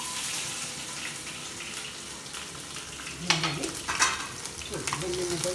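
Garlic fries in oil with mustard seeds, a continuous close sizzle with a few sharper spatters and stirring clinks partway through.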